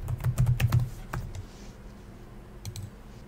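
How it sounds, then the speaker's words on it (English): Quick burst of keystrokes on a computer keyboard while entering a username during a Debian 12 install in VMware Workstation, a rapid cluster of clicks followed by a few isolated taps, close and clear with no talk. "Then type in the username and click continue."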